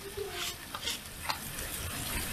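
Onion frying in oil with black pepper sprinkled in, for a fish in crème fraîche dish: a soft, steady sizzle with a few brief utensil scrapes, close and fairly quiet, no talking.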